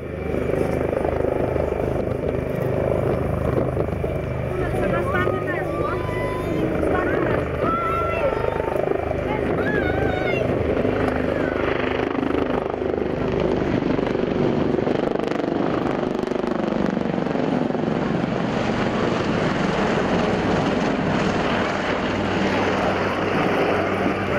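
Lynx Wildcat helicopters fly in a four-ship echelon during a naval airshow at Yeovilton, their rotors and engines making a loud, steady drone throughout while an announcer talks over them.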